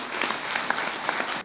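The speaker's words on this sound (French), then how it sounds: "Sous vos applaudissements, merci." Brief, dense clapping from a forum audience follows a speech, loud and continuous with no talking.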